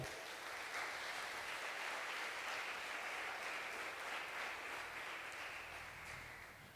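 A church congregation applauds continuously in a sustained, even wash of clapping, fairly distant and soft, fading slightly toward the end.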